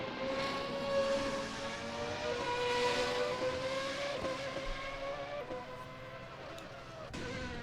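Sim race car engines at the Nürburgring GP circuit in a racing game, several cars droning together at steady high revs with rising and falling harmonic pitch, a continuous loud pack sound.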